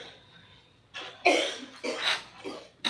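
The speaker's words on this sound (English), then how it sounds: "I'm sorry whoever's coughing, but if you don't mind stepping out in the hallway" A person coughs several times in a quiet courtroom, a cluster of four or five harsh bursts close by, with no talk.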